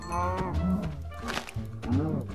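A cow in the Minecraft video game moos in a series of drawn-out, throaty calls that rise and fall, loud and close, with no speech over them.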